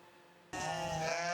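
A sheep at the Odesa zoo gives one drawn-out, wavering bleat that starts suddenly after a brief quiet moment and carries on, moderately loud, to the end.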